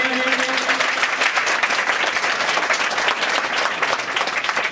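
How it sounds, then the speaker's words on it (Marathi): Loud, dense applause from a crowd gathered for a village school event honouring the headmistress, steady and sustained throughout with no pause. "सर्वांनी जोरदार टाळ्या वाजवायच्या आहेत"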